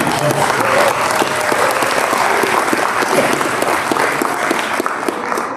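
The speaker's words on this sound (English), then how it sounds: "let's give a big round of applause for Manny's Tex-Mex tonight for the meeting" A crowd at a state of the city address gives a loud, sustained round of applause, dense clapping close by that holds steady throughout.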